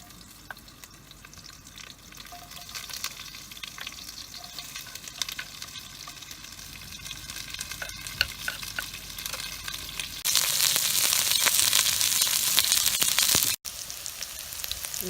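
Turkey sizzles and fries in a very hot skillet for a Mediterranean turkey dish, with scraping stirs over a steady crackle that grows louder and more intense near the end.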